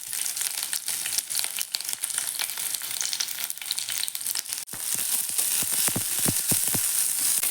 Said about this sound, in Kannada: ಈರುಳ್ಳಿ ಹುರಿದು ಆಗ್ತಾ ಬಂತು